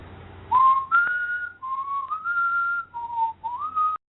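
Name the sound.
whistling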